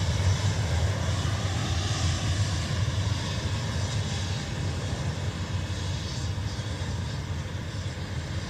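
A United Boeing 787 taxiing at Dublin Airport gives off a steady, broad engine roar with a low rumble, continuous and fairly loud throughout with no voices over it.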